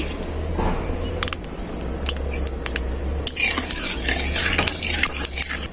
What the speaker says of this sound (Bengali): তেলে কালো জিরে আর কালো সরষে দিয়ে দেব